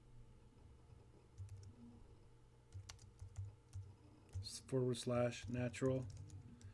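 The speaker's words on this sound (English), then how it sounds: "I'm going to type in Option G, key for copyright" Typing on a computer keyboard: a quiet, uneven patter of key clicks close by, with someone talking over the later part.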